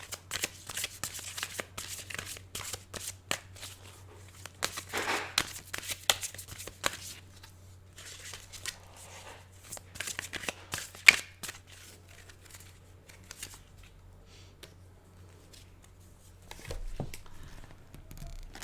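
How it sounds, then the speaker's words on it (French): Tarot cards are shuffled close by in quiet, soft papery riffles and flutters, busiest early on, then sparser taps and slides of the cards. "Je vais tirer une autre carte."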